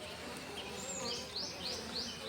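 Honey bees buzz around a hive box at a large honey farm, a faint, continuous droning hum with a few individual insects whining past close by.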